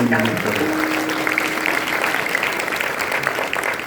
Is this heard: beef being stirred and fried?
no